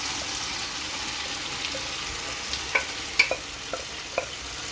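Masala paste frying in a pan for an egg roast, a soft continuous sizzle with a few light scraping clicks from stirring toward the end, quiet and close with no talking.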